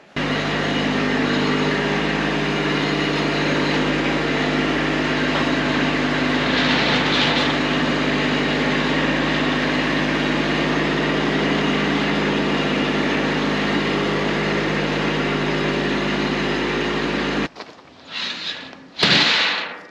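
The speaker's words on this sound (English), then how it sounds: "let's get the Kubota, let's get this thing outside" Kubota tractor engine running, a loud, steady, close diesel drone that holds for most of the clip, then cuts off abruptly and is followed by a few brief bursts of noise.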